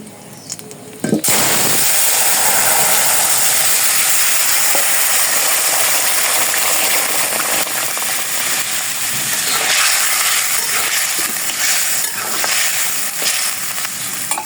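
After a brief quiet start, cumin seeds drop into hot oil in a wok and burst into a loud, continuous sizzle and hiss, with occasional crackles and a few stirring knocks running to the end.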